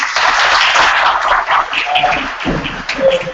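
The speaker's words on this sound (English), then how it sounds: "So can I get a round of applause?" Audience applause after a talk at a GIST bootcamp, a loud close burst of many people clapping, with a brief tonal sound and a voice surfacing near the end.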